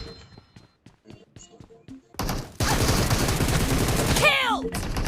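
Rapid game gunfire bursts out loud and dense, sustained for several seconds after a quieter stretch of thuds and clicks, with voices calling out over the shooting.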